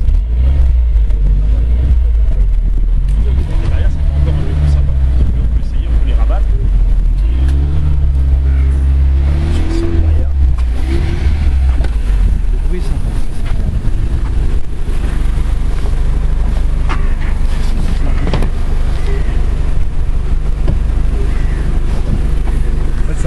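A Renault Megane 3 RS engine revs and accelerates with a deep rumble, heard from inside the car with doors closed over steady road and wind noise.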